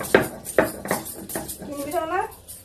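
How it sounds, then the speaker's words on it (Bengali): Ginger and garlic are ground on a stone slab (shil-nora): a few rhythmic scraping, knocking strokes of stone on stone, close and fairly loud, followed by a voice talking. "এই যে এখানে শিলনোড়া নিয়ে নিয়েছি, শিলে বাটবো মশলা।"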